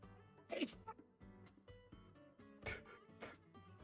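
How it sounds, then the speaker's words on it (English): A double sneeze from a person during a tabletop Dungeons & Dragons session, two sharp bursts about two seconds apart, close and fairly quiet, with voices around them. "I double sneezed, by the way."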